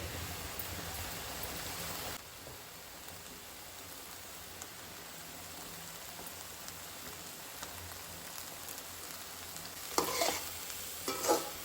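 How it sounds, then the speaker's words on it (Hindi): Goan dry prawns kismur being stirred and mixed with coconut, a steady sizzling, scraping texture close by with a few louder clatters near the end and no talking. "इसको जो है ना अच्छे से मिक्स कर लेते हैं और ऊपर से डालेंगे कोरिएंडर"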